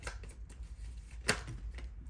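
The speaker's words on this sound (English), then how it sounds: "We have too many cards here. So let's go ahead and do another shuffle." Tarot deck being shuffled by hand, a dry papery riffle with quick flutters and one sharper snap of cards, close and fairly quiet with no talking.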